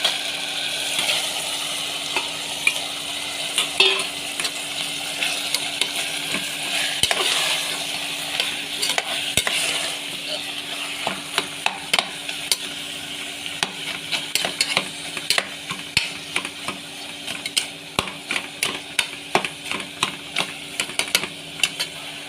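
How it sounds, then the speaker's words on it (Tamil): Ginger garlic paste sautés in a pan for chicken kuzhambu, a continuous close sizzle overlaid with sharp spatula taps and scrapes that grow quicker and more frequent toward the end. "இஞ்சி பூண்டு பேஸ்ட்டை ஆட் பண்ணிவிட்டேன். நல்லா வதக்கிட்டு"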